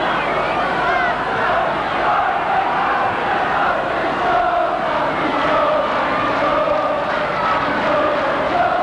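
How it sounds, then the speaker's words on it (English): Football crowd in a stadium at a Wales versus Czechoslovakia international, a loud, unbroken roar of cheering and chanting for a player, dense and sustained throughout. "Crowd cheering Andy Jones."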